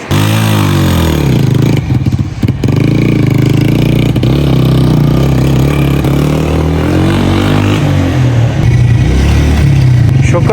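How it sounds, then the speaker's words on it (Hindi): A vehicle arrives on a paved road in Pakistan's Neelum Valley, its motor running loud and steady throughout with rough clattering and some revving close by. "जिस गाड़ी का इंतज़ार था वो गाड़ी आ चुकी है भाई।"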